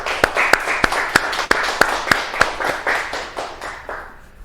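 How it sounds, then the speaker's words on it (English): Sparse applause for sponsors at a fundraising event, a few close, sharp claps in a steady rhythm over softer scattered clapping from a small audience, fading toward the end. "Now let's all give our generous sponsors another enthusiastic round of applause."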